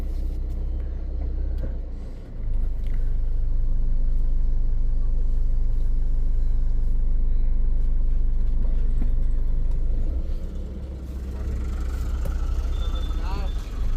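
A Force Gurkha rumbles along a dark hill road at night while another vehicle passes close by, its engine and road noise swelling briefly over a steady low drone, with someone talking throughout.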